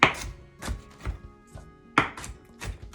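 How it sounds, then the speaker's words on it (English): A knife chops broccoli stems finely on a cutting board for a kale and Brussels sprout salad, giving several sharp, close thunks in an uneven rhythm with brief pauses. "So I'm gonna chop this up really fine"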